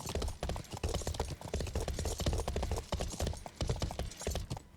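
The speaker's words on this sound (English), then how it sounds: "And we ride. Yeah, go to a gallop." Horse galloping in the video game Life is Feudal, a steady rapid clip-clop of hooves running continuously and loud close up, with no talk over it.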